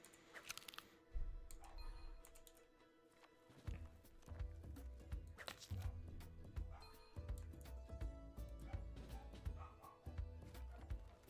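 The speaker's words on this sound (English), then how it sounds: "Oh, can you hear the barks?" A dog barks in the background of a Brighter Shores game session, with repeated low thumping barks and clopping, clattering sounds mixed with game tones, fairly faint overall with no clear talk.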